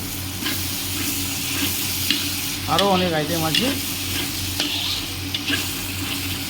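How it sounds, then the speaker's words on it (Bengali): Mutton masala sizzles steadily in a hot pan as it is stir-fried, with scraping stirs throughout and a short stretch of speech partway through. "এই যে মটনের মশলা হচ্ছে"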